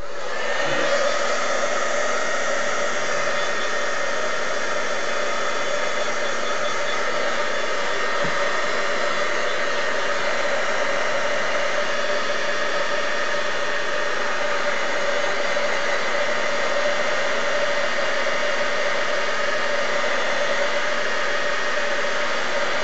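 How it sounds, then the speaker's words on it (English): Steady, loud whoosh of a heat tool blowing continuously as paint dries on a mixed media canvas, an unbroken fan-like roar with a high whine throughout and no voices. "it will dry clear once we get the heat tool"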